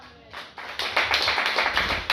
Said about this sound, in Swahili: Mpe Yesu makofi ya juu.